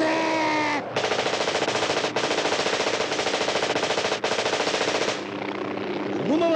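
Sustained machine gun fire from a 1983 mecha anime battle, long rapid loud bursts with brief gaps, preceded and followed by sci-fi electronic tones.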